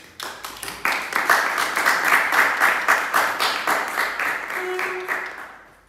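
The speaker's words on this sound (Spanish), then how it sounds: "Un aplauso." An audience applauds at a Spanish-speaking event, a few scattered claps quickly swelling into sustained, loud clapping from a crowd that holds for several seconds before fading out, with no voices.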